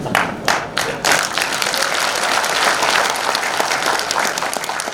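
Applause at a Korean book launch event, a few distinct claps followed by dense, sustained clapping from a large crowd in a hall, loud and steady throughout.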